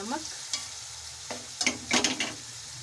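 Onions, tomatoes and ginger-garlic paste stirred and frying in a pan for white matar pulao, with soft sizzling and several short bursts of stirring and scraping close by, growing busier toward the end, no voices.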